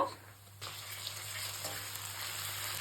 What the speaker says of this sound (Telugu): ఇప్పుడు ఈ అల్లం వెల్లుల్లి పేస్ట్ కూడాను పచ్చివాసన పోయినంత వరకు ఫ్రై చేసుకోవాలి.